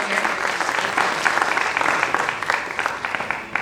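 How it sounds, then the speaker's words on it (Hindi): An open mic audience at a Hindi poetry event applauds a performer, loud, dense clapping from a crowd with a few sharper individual claps standing out, fading slightly toward the end. "मुस्कान के लिए एक बार जोरदार तालियां"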